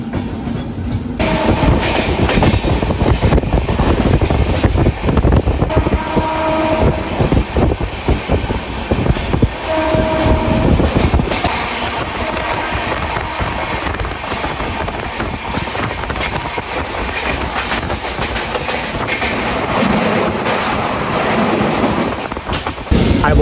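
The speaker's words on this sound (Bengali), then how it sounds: "আমাদের ট্রেন ছেড়ে দিল শিয়ালদা স্টেশন থেকে।" Passenger train running out of Sealdah station, a loud continuous rumble of the carriage with rhythmic clickety-clack of wheels on rail joints and some wind buffeting the microphone, steady throughout with no talk.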